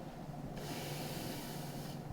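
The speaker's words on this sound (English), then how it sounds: "You can hear it spraying the water right now." A Dreo ChefMaker cooker sprays water while a ribeye steak cooks in sous vide mode, giving a steady close hiss with a slight shift in tone partway through, with no talking.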